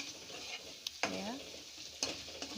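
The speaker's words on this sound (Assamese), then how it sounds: "মাংস ভাজি থকা হৈছে লিভাৰ।" Chicken liver fries in a pan with a steady sizzle, broken by a few sharp scrapes as it is stirred, close and alone with no talking.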